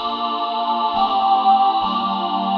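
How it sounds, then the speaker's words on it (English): A synth choir patch emulating a Korg Triton, built from detuned saw and triangle oscillators with chorus, holds bright sustained chords that shift twice, wide and steady throughout. "Now to emulate the choir for the Korg Triton, all you need is two oscillators."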